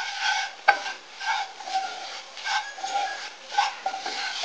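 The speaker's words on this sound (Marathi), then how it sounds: "मैदा व्यवस्थित आपण फ्राय करून घेऊया, व्यवस्थित तो भाजून घ्यायचा आपल्याला।" Flour being fried and stirred in butter and oil in a pan, heard as soft rhythmic scraping and shuffling strokes with a faint sizzle, one sharper knock early on, close and without talk.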